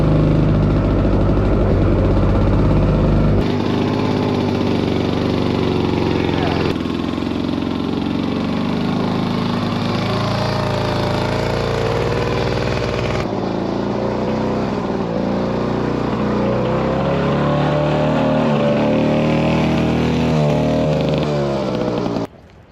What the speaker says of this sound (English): She's still running a wee bit rough. That's what you get for an old 60-year-old engine.